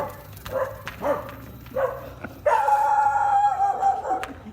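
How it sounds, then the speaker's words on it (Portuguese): A frightened female dog gives several short barks and yips indoors, with some muffled noises between them and a steadier stretch of sound in the second half. "A cachorra tá com medo de..."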